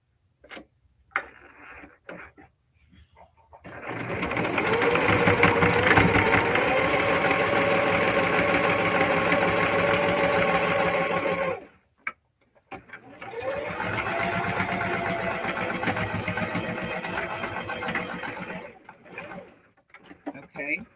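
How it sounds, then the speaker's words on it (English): A Singer Heavy Duty sewing machine stitches fabric for a crossbody bag in two long, loud runs of rapid whirring, broken by a short pause and bracketed by quiet clicks and handling noises. "I'm gonna just take it back to the sewing machine and sew it down"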